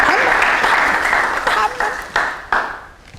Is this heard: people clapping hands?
yes